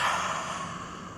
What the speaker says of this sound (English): And exhale, lion's breath.